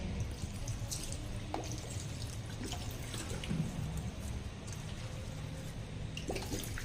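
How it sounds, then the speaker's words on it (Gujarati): Cold tap water runs steadily over freshly cooked Hakka noodles in a sink, a soft continuous trickle and splash with scattered drips, fairly quiet and close. "આ રીતે આપણે ઠંડુ પાણી ઉમેરતા જઈ મિક્સ કરી લઈશું"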